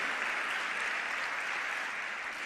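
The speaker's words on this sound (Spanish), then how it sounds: "Fuerte ese aplauso." Steady, even applause from a church congregation, a dense wash of many hands clapping at an unchanging level throughout, somewhat distant and quiet.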